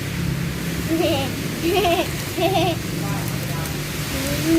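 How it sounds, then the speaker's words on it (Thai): Rain falls in a steady soft hiss beneath a voice, which speaks and sings in short bursts over the continuous wash of rainfall. "ฝนก็ตก"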